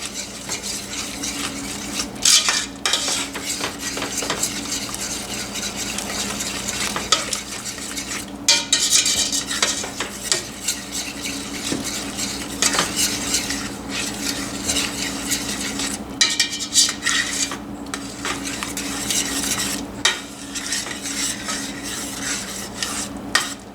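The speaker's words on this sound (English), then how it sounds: "So now I'm going to add in my sugar and cornstarch mixture. Stir it in real quick." A sugar and cornstarch mixture is stirred into boiling cactus filling for a blue cactus coffee cake, with continuous scraping and clinking of a utensil against the pot over a bubbling simmer, no speech.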